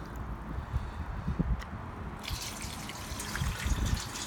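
Wagners rust remover poured through a funnel into a motorcycle fuel tank, a close, steady liquid trickle and dribble that thickens into a fuller splashing flow partway through, with no talking.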